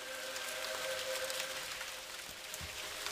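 Rain from the video game Ghost Master, a soft, even patter of drops falling continuously at a low level with a faint background hum and no talking.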